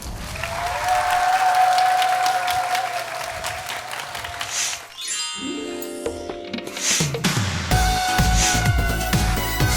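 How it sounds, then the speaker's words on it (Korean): Applause from a studio audience welcoming explorer Nam Young-ho at a televised talk event, a steady wash of clapping with music playing through it and a brief dip midway before it swells again. "네, 그럼 탐험가 남영호 씨의 꿈의 비밀을 푸는 열쇠 도전 박수로 한번 청해 보겠습니다."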